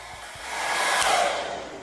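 A hair dryer blows steadily on latex shaped into a shrunken ear on a corpse prop, a continuous close whoosh that swells slightly louder midway before easing back.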